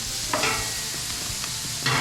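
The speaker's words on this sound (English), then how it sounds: "we're gonna start with some peppers first" Peppers cooking on a Blackstone griddle with the left burners on medium-high heat, a soft continuous sizzle broken by a few spatula scrapes and taps, no talking.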